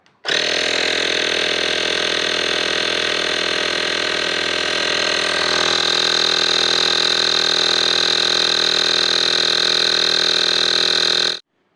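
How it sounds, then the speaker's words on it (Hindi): A Onelap portable tyre inflator runs continuously close to the microphone, a loud steady motor drone with a buzzing, rattling compressor tone that rises slightly in pitch partway through before cutting off at the end. "1 लैप को सबसे पहले हम चलाएंगे, माइक में पास रख दूंगा और फिर देखेंगे इसकी साउंड कैसी है।"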